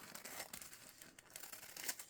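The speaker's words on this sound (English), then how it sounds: "where did my scissors go? Here it is. Okay, I'm going to cut this here." Scissors snip through a small sheet of wax paper, giving a close, dry crinkling and tearing rustle in short bursts with no talking.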